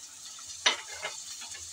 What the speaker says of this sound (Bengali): পেঁয়াজ রসুন কিছুক্ষণ নেড়ে চেড়ে ভেজে নিলাম।